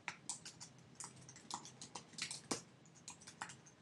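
Quiet, close computer keyboard typing, a steady run of light key clicks with no voice.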